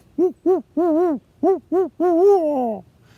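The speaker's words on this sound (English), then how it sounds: "The owls that I hear around here are the barred owls. They're the ones that have the call." Barred owl hooting in swampy, wet woodland: a loud, close series of hoots, two short, then a longer drawn hoot, two more short ones, and a long wavering call that slides downward at the end, with no talk.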